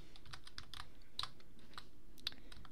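Computer keyboard keys pressed while playing Roblox Plane Crazy: a quick run of faint, light clicks in an irregular rhythm, heard alone in a quiet room.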